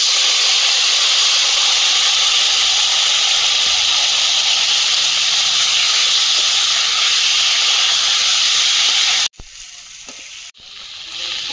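Bhola fish sliding into hot oil with dry red chillies and black cumin, a loud continuous hiss and sizzle that runs for about nine seconds, then cuts off abruptly and leaves a quieter, intermittent sputter.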